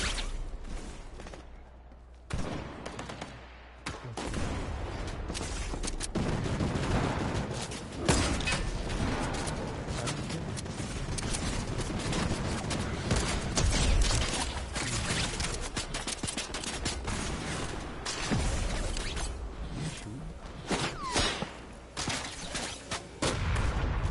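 Dense, continuous volleys of gunfire and booming blasts fill the whole stretch, loud and relentless with overlapping shots and no clear pauses.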